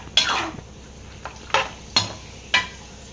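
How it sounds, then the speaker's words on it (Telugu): Chicken skin is stirred in a pan, a metal utensil scraping and clinking against the pan in about five sharp separate strokes over a quiet background, close and with no talk. "ఇప్పుడైతే దీన్ని అయితే బాగా కలిపెట్టుకుందాం"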